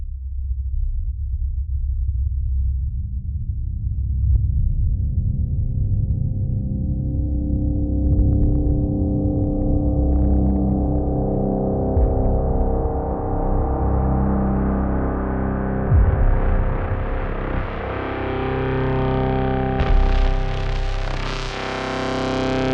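A sample processed through a stock Ableton effects chain swells from a low distorted rumble into a dense tone that keeps climbing. Layered harmonics widen steadily upward, and the sound stays loud and continuous with no talking.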